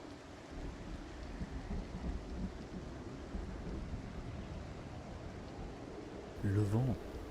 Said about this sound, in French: La pluie, hein.